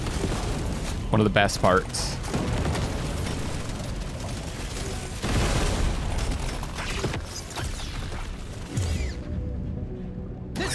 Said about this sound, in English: God, I love the explosions in this game.